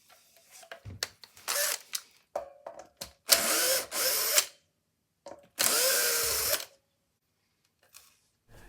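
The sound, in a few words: screwing a pickguard onto a Squier Strat guitar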